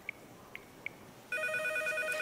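A telephone rings in a hospital setting: a few faint, short electronic blips, then a loud, steady ringing tone that carries on without pause to the end.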